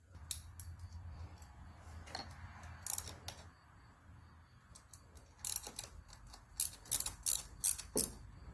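A ratchet wrench loosens 10mm and 12mm transmission filter screws on an Acura/Honda, giving bursts of rapid metallic clicking that start and stop, close and fairly clear.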